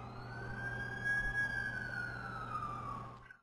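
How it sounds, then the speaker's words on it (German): Ambulance siren in the video game The Amazing Spider-Man 2, a sustained wailing tone that rises and then slowly falls, heard steadily over a low engine rumble and fading out at the end, with no talking. "Da ist der Krankenwagen."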